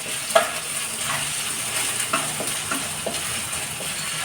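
Curry leaves fry in ginger garlic paste in a pan, a soft steady sizzle broken by light scraping stirs and small pops, with no voices.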